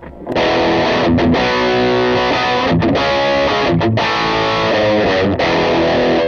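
Distorted electric guitar strumming chords alone through a Line 6 HX Stomp with reverb switched off, sounding dry and close with notes stopping abruptly and no lingering ambience.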